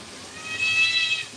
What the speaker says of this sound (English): Cat's currently yelling at me.